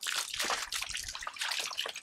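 Water poured over a person after soap washing, a loud splashing, sloshing pour in several surges over two seconds, with no talk.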